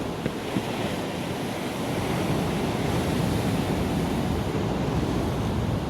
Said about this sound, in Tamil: கடல் அலைகள் கரையில் மோதுறது பார்க்கவே அவ்வளோ அழகாக இருக்குது